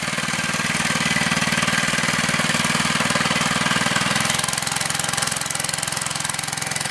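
A small mini bike engine runs steadily at idle after starting, a loud rapid chugging putter that holds for several seconds without revving up, close to the listener.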